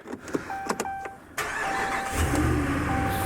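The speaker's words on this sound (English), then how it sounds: "now I need to start the truck up" A truck engine cranks and fires up at about a second and a half, then settles into a steady, loud idle rumble.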